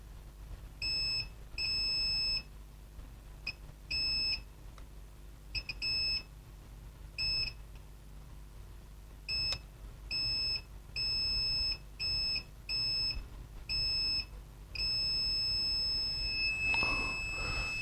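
A multimeter in continuity mode, probing capacitors around the EC chip on a laptop motherboard, gives repeated sharp electronic beeps of uneven length that start and stop as the probe touches each point. A steady electrical hum runs underneath.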